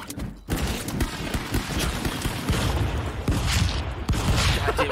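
Shotgun fire rings out in a Counter-Strike: Global Offensive match: loud, dense blasts and shots pile up almost continuously, with other game sounds behind.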